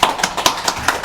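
An audience at a real-estate lecture applauds the lecturer, heard as a short run of sharp, evenly spaced claps close by.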